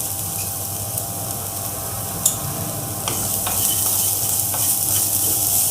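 Sliced onion fries with turmeric powder in a pan, a steady close sizzle with intermittent stirring scrapes and light clinks throughout, no talking.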